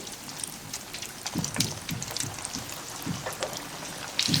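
Food deep frying in hot oil over moderate heat, a soft continuous bubbling and crackling sizzle with scattered small pops, heard up close and with no talking.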